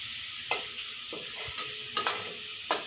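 Whole spices and chopped garlic frying in hot oil in a pan for restaurant-style shahi paneer, with a steady sizzle broken by several sharp scraping stirs of a spoon against the pan.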